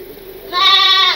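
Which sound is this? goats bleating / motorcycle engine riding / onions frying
goats bleating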